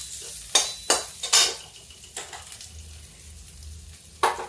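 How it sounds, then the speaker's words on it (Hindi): Cumin, garlic, green chilli and ginger fry in a pan with a soft continuous sizzle, broken by several sharp scrapes and clinks of a spoon stirring against the metal, close and fairly quiet. "ये देखिए मैंने जीरा डाला है और इसी में डाल दिया लहसुन, इसी समय हरा मिर्चा, इसी समय अदरक"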